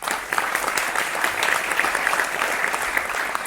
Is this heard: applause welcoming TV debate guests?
yes